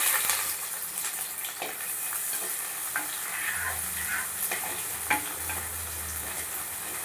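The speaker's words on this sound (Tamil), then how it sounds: "பூண்டு பல் நல்லா செவந்ததும் நறுக்கி வச்ச வெங்காயத்தை சேர்த்துடலாம்" Steady, bright sizzle of chopped onions and garlic frying in hot oil, with occasional stirring scrapes and clinks, close and continuous without talk.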